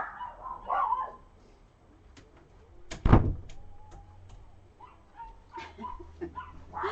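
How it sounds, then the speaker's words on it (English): A dog barks and yips in short bursts, with a sharp thud like a door partway through and quieter whimpers afterward. "So let's ignore Rosie barking and have a look."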